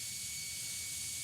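Jet engine of an Airbus A320 in Tower! Simulator 3: a steady, even roar with a bright hiss on top, holding constant without any voices.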